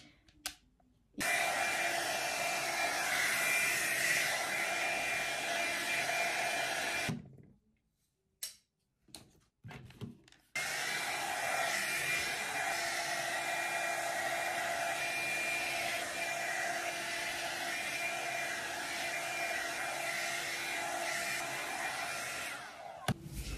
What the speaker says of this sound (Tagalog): Sinushow ko lang kung paano ginagawa ko yung aking pag-dry ng buhok ko